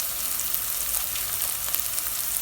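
Ground spice powders of turmeric, garam masala and a chili-coriander masala sauté in hot oil for a vegetable kurma, giving a steady, close hiss of sizzling with no pauses and no voices.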